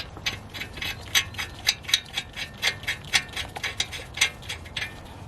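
A wheel stud coated with thread locker being screwed in by hand on a BMW F30, a close run of small ratcheting clicks ticking steadily with no talk.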